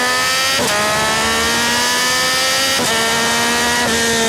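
A Yamaha R9 motorcycle pulls away loudly, its engine climbing in pitch through several gear shifts, each upshift briefly dropping the revs before they rise again.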